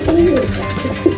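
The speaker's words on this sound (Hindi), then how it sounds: "दोस्त इसकी गुटरानी अलग है" A pet pigeon coos up close in a brief, low throaty phrase, with a faint soft sound at the end and no speech.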